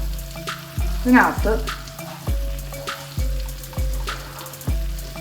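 Chicken with pepper powder and chicken masala frying for biryani, stirred in a pan with a regular rhythm of scraping strokes over a constant sizzle; one clattering stir stands out early and a voice speaks briefly.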